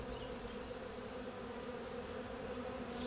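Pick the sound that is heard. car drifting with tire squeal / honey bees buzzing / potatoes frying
honey bees buzzing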